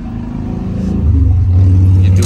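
A Chevy 6500 flatbed rollback tow truck idles loudly, then its engine note rises and settles into a steadier, heavier drone as the PTO engages about a second in, with no talk.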